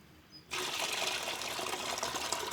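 Water poured from a container to rinse fish in a home kitchen, starting abruptly after a brief quiet moment and continuing as a steady, close splashing gush.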